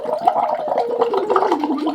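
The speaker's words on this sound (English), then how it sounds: "I just keep the straw lightly between my teeth and I bubble my way through my vocal warm-ups" Someone bubbles air through a straw held between the teeth into a glass of water during a vocal warm-up, voicing a wavering sung pitch through the burbling, close and fairly loud.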